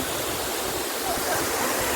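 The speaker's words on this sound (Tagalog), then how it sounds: "nakaduol sa Migmayo sa falls" Waterfall at Migmayo Falls in Bohol roaring steadily with dense broadband rushing water, close and continuous throughout, with no talk standing out above it.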